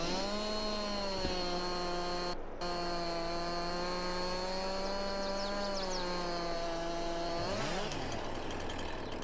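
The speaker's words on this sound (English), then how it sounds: "just use the chainsaw again" A chainsaw cuts a tree in Farming Simulator 22, its engine holding a steady, buzzing whine throughout with a brief dropout, then the pitch wavers and shifts as the cut finishes.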